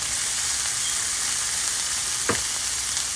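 Red onion frying in olive oil in a skillet, a steady loud sizzle throughout with a brief stir or clatter near the end, no talk.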